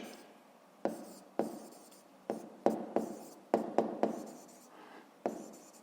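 A pen scratches on paper in short, separate strokes, about a dozen quick bursts with small pauses between them, close and fairly quiet.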